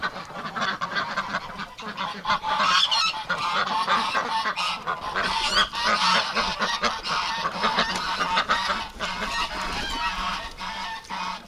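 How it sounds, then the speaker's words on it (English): A flock of wintering geese honks loudly and continuously, many overlapping calls close by with a few duck-like quacks mixed in. "the geese are loud"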